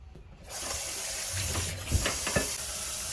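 Tap water runs steadily into a sink while beef is rinsed in a home kitchen, with a constant close rush and a few light splashes and knocks against the basin.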